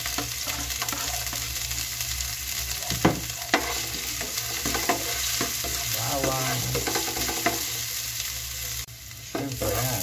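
Onion and garlic sizzling and frying in a pan for Filipino binagoongan, a loud continuous crackle with repeated scraping stirs and spatula knocks throughout.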